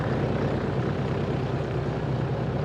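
Vintage aircraft FIFI departing, a loud, steady engine drone that fills the whole stretch without letting up.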